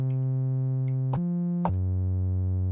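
Synth bass tone built from a sine layered with a saw wave through a low-pass filter, sustained and clean, shifting pitch twice with short clicks at each change.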